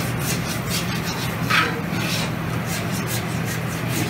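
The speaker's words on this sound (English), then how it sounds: "Scraping the grill, of course." A metal scraper rasps across a buffet Mongolian barbecue grill in steady repeated strokes, fairly close and moderately loud over a constant hum of restaurant background noise.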